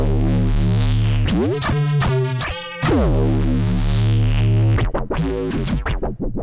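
The Arctic Pro iPad synthesizer, a two-oscillator subtractive analog synth, playing its Filthy Blue Monster patch: loud, sustained, gritty tones with heavy low end, sweeping filter changes and choppy stuttering passages, alone with no voices.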